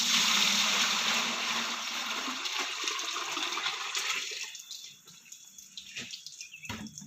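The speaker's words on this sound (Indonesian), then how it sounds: "Ini air pumpnya kebetulan nggak ada, kita masukkan airnya." Water poured into a small model or training setup with no pump fitted, a loud rushing pour that gradually thins into trickling flow and drips.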